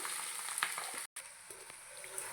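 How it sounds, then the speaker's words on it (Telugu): Rice tips into a pan of sizzling moong dal tempering with asafoetida, giving a steady hiss of frying with soft stirring scrapes and a brief drop-out midway. "తాళింపు అయితే బాగా వేగిపోయింది మనం రైస్ని ఇందులోకి యాడ్ చేసేసుకుందాము"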